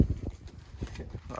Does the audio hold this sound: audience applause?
no